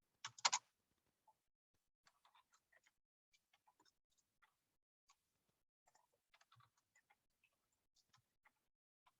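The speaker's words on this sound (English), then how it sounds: "I apologize that I have to type all these in" Sparse, quiet keystrokes tapping on a computer keyboard, irregular single clicks spread across the stretch with one brief louder burst near the start, no voices.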